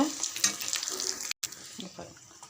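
Vadagam, a sun-dried mix containing mustard seeds, urad dal and cumin, sizzles steadily in hot oil as a base for an anchovy fish curry, with a brief break midway before the crackling frying resumes.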